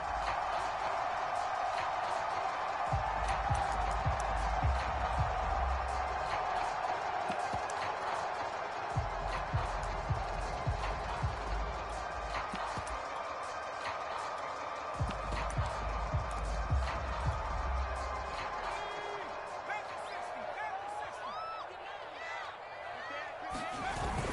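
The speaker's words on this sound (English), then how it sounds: "this crowd loves it as their guys hold on the opening drive" Stadium crowd in the football video game Madden 22, a constant roaring wash of cheering that swells in places, with game commentary talking over it throughout.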